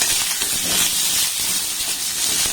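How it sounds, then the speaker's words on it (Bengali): Pointed gourd pieces fry in oil over a low-medium gas flame, giving a loud, dense, continuous hiss of sizzling oil that stays steady throughout. "গ্যাসের ফ্লেমটাকে লো টু মিডিয়াম রেখে পটলগুলোকে এবার আমি একটু হালকা লাল লাল করে ভেজে নেব"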